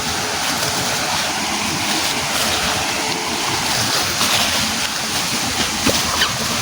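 River water rushing steadily along a riverbank, a loud broadband wash with scattered splashes, continuous and close.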